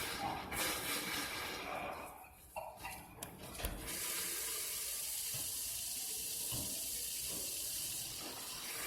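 Water rushes out of a fire sprinkler system under test, first sputtering and gurgling with air, then settling into a loud, steady hissing flow.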